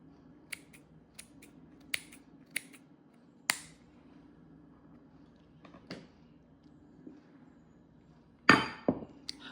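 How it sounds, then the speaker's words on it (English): A series of sharp snips from scissors cutting bacon, irregularly spaced, close and clear, ending with a louder clatter. "I just literally just cut it up with scissors"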